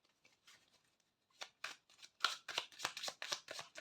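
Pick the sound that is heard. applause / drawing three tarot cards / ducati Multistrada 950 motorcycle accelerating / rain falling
drawing three tarot cards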